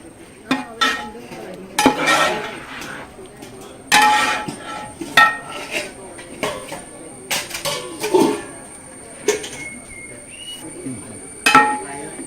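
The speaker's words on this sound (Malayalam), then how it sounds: "വെന്ത കപ്പ എല്ലാം കൂടെ ഇളക്കി മിക്സ് ചെയ്ത് ചേർക്കുക" Cooked tapioca is stirred and mixed in a pan, with repeated scraping clinks and knocks of a utensil against the metal in uneven bursts, close and fairly loud, and a faint steady tone behind.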